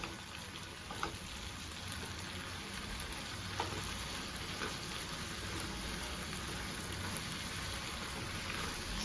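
Mushrooms fry in a pan for mushroom biryani, giving a steady, dense sizzle and crackle with a few faint clinks of stirring throughout.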